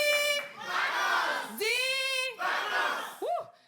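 A live crowd at a French-language summer variety show cheers, whoops and shouts in loud continuous bursts, with high piercing yells rising over a steady roar of voices.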